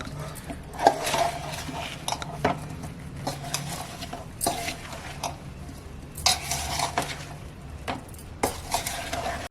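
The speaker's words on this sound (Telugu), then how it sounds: "వేపి నూనె ఇందులో కలిపేసుకుందాం." A spoon stirs amla pickle mixed with fried oil in a bowl, giving repeated scraping and clinking strokes in an uneven rhythm, close and fairly loud, with no talking.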